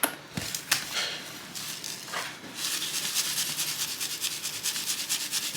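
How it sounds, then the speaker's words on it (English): Dry seasoning being rubbed by hand into raw pork belly, meat side up, a soft continuous scratchy rubbing with a few sharp taps early on, steady and close throughout, no talking. "Alright, I'm going to season the meat side first because the fatty side is going to be my presentation side"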